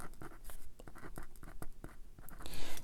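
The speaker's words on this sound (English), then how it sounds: "we're just going to write Holy Fire here" Pen or pencil writing by hand on paper during a Warhammer Quest tabletop game, a close run of short scratchy strokes with small pauses, with no talking.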